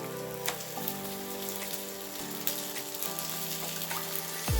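Pieces of arbi (taro root) fry on a hot tawa, giving a steady, crackling sizzle that runs the whole time beneath faint melodic background music.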